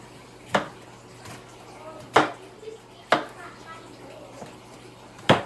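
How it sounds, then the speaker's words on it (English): A knife roughly chops a tomato in a handful of sharp, irregularly spaced strikes, each a crisp close-up knock against a quiet kitchen background. "I'm gonna give it just a rough chop"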